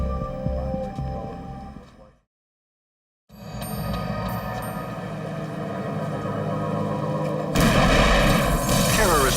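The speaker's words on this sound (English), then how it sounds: "Terrorist bombs explode at Mexican consulates in Miami and New York within hours of each other." Terrorist bomb blasts at Mexican consulates in Miami and New York, heard as loud booming, rumbling detonations and crackling debris, cut by a brief silence, then resuming and swelling louder toward the end.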